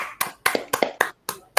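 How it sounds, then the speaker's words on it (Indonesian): A small group claps in uneven bursts to close an Indonesian PE class session, seven or eight sharp, close slaps with brief silences between them and no talking. "Tepuk tangan untuk kita semua."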